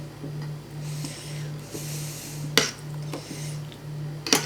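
Cream being mixed in a bowl for an apricot charlotte, soft clinking and scraping of utensil against the bowl with a couple of sharper knocks, over a steady low hum in a home kitchen.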